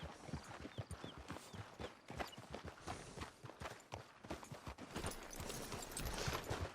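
Horse hooves clip-clop at a steady walking pace in Red Dead Redemption 2, soft and fairly faint with a light ambient bed and no speech.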